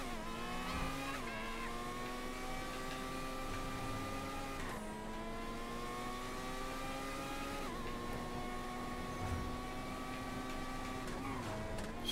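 The Itali GTO drives through a video game time trial at Fort Zancudo, its engine a steady sustained drone that drops and climbs again at each gear change, continuous and even in level throughout.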